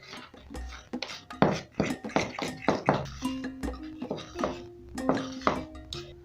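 A utensil clinks and scrapes against a bowl while carrot cake batter with buttermilk and baking soda is stirred by hand, with irregular close taps and ringing knocks in an uneven rhythm.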